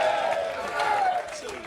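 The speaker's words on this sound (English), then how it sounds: "Ladies and gentlemen, give the big round of applause, please." A stadium crowd cheering and applauding after England's rugby win over France, a loud sustained roar with whoops and a voice rising above it, fading slightly toward the end.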